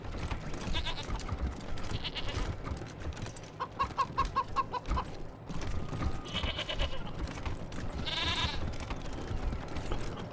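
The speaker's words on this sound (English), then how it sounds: "Ooh, a mountain goat." A mountain goat in the video game Wasteland 3 gives several nasal bleats over a busy, continuous game soundscape, with bright animal calls coming in short bursts throughout.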